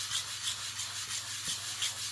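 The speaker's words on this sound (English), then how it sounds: "take my sanding sponge and sand it first, and just keep sanding it" Rhythmic rubbing of a sanding sponge against a cast part's flash, quick back-and-forth strokes repeating evenly, close and moderately loud.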